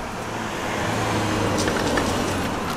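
A car drives along a road, a steady engine and road hum with tyre rumble running throughout at even loudness, close and continuous with no voices.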